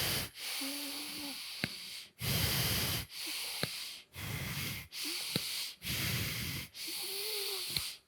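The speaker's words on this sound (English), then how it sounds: "with the same belly breathing, chest breathing, clavicular breathing" Deep meditative breathing through the belly, chest and collarbones, heard as a series of long, loud, close breaths, each one a sustained airy hiss, with brief pauses between them in a steady slow rhythm.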